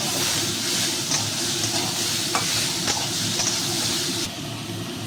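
Spices and ginger paste sauté in a hot pan with a steady, loud sizzle and hiss, while occasional stirring scrapes and taps cut through. No one speaks.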